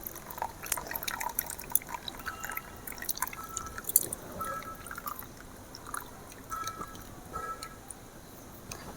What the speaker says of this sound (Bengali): এভাবে জলটা নিচিয়ে নিতে হবে